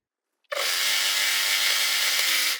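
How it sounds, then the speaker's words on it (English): A serger overlock machine whirs steadily for about two seconds as it stitches quilt pieces together, starting abruptly after a brief silence and running at an even, close-up hum. "I'm just serging them together."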